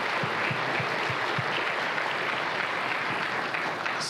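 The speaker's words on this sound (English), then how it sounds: "can you keep that warm applause going" A live audience at the BGSU Hatch 2025 event applauds with steady, dense clapping that stays even in loudness for the whole stretch, with no voices over it.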